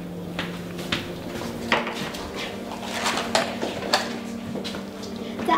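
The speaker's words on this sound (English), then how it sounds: "Next step is to put it in the oven." Metal cookie tray clattering and sliding into an oven while baking polka-dot cookies, a string of light knocks and scrapes spread over a few seconds, with a steady hum underneath.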